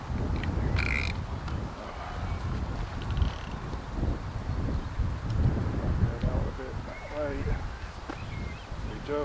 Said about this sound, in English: the wind is starting to pick up a bit